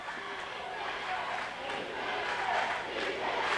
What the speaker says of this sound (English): The crowd's really getting riled up here.